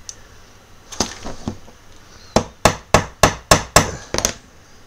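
A small hammer taps sharply, a few scattered strikes followed by a quick run of about eight evenly spaced blows, close and crisp.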